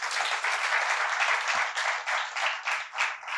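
An audience applauds a poet at a Marathi poetry reading, steady dense clapping from many hands sustained throughout, fairly close and loud with no talk over it.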